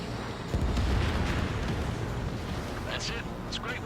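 An enemy bomber explodes after being shot down in the Ace Combat 7 flight game, giving a loud, sustained rumbling blast that fades slowly, with a voice speaking over it.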